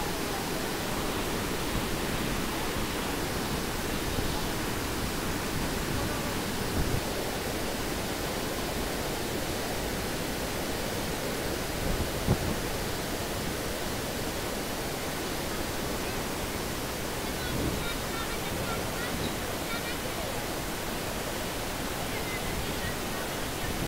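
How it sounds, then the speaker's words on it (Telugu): Floodwater of the Krishna river pours through the open gates of the Srisailam dam as a loud, unbroken broadband roar that holds steady throughout. "ఇంకా వరద నీళ్లు బాగా వస్తున్నాయట."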